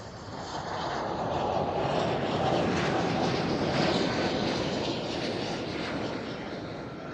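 A Surinam Airways airliner bound for Paramaribo at Amsterdam Schiphol, a steady distant jet rumble that swells gently in the middle and eases off, heard alone without talk.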